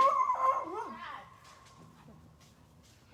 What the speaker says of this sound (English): Here comes the puppies.